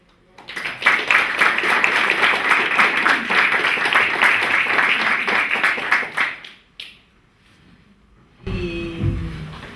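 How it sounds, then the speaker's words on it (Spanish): An audience at a literature and crime-film conference applauds, sustained clapping for about six seconds that fades out, followed by a pause and then someone speaking. "damos un aplauso"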